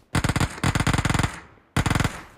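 Rapid automatic gunfire in the video game PUBG Mobile: two long bursts of fast, loud shots, a short pause, then a third burst starting near the end.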